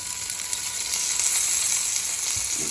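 Onions and chillies frying in a pan with salt sprinkled over them produce a loud, continuous close-up sizzle with a light crackle and no voices.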